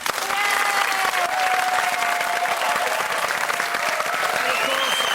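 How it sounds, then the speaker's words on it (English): A studio audience at a Christmas special of a music quiz show applauds, a dense, even wash of clapping that holds steady for several seconds, with tonal sounds and voices running over it. "Can we also have a round of applause for all the special guests that came around for Christmas this year"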